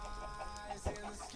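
A Minecraft chicken gives a brief, faint cluck over steady background game music, a single soft note barely rising above the mix.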